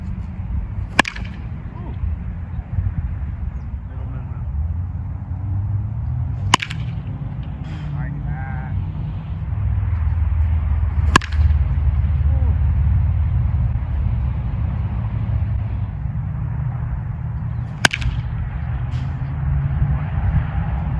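Sharp cracks of a Louisville Slugger birch VG27 wood bat hitting baseballs, four single hits spread several seconds apart over a low background rumble, with people talking between swings.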